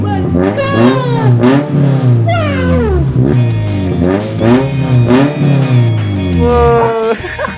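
A Toyota MR2 fitted with a spiral resonator exhaust revs over and over, each loud, close rise and fall of engine pitch following quickly on the last, with voices around it.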